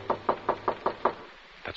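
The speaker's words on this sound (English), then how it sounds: "Someone's knocking at the door." Radio drama door-knock sound effect: six firm, evenly spaced raps on a door, close and loud, then a pause and one more knock starting.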